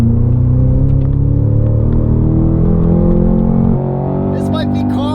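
A 2022 Cadillac CT5-V Blackwing with a manual gearbox runs flat out on a track, its engine a loud, steady rumble that holds for several seconds and then dips. A brief voice cuts in near the end.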